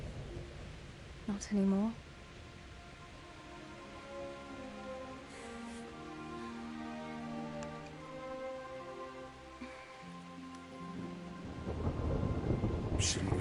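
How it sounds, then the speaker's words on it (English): A thunderstorm with rain in the video game KCD rumbles low beneath a background wash of rainfall. A heavier burst of thunder swells near the end, and characters talk over the storm. "Not afraid of thunderstorms, are you?"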